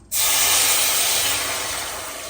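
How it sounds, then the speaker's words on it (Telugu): Beetroot juice poured into a hot pan while making beetroot halwa gives an abrupt, loud, steady hiss that starts at once and fades slowly over about two seconds. No one speaks. "చిన్న బీట్రూట్ జ్యూస్ వేస్తున్నాను."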